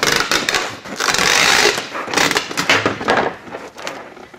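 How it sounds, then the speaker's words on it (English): A laser printer in a warehouse order-packing station runs off a packing list, making a continuous close mechanical whir and rattle of rollers and feeding paper with uneven surges and clicks. "And then it comes back over to your laser printer."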